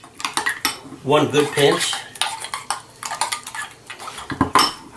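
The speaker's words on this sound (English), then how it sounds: "Mix this up. It mixes in nicely." Utensil stirring and scraping gluten-free falafel mixture in a bowl, close clinks and clatter against the dish in uneven bursts, with a person talking briefly over it.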